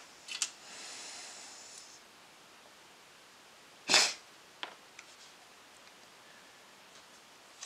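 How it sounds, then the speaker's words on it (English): A person with a cold gives one sharp, close sniff, with a fainter snuffle earlier and another after it, over quiet room tone and no talk. "Sorry about the sniffing, but I have a bit of a cold."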